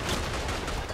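Machine gun fire in the video game Verdun, a dense, continuous rattle of rapid shots filling a short burst with no pauses, fairly loud and close.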